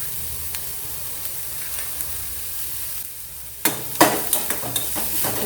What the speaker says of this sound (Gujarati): હવે આદુ મરચાં લસણ નાખીશું